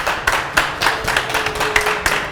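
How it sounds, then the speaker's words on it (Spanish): Studio audience at a Paraguayan television show clapping to welcome guests, a sparse, close run of individual claps with a loose rhythm, roughly a few claps per second. "Vamos a recibir a nuestros invitados, por favor, con el aplauso de la gente."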